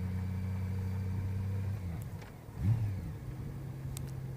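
A motorcycle being ridden drones steadily at close range, its engine note dipping and then briefly revving up before settling back to a constant hum.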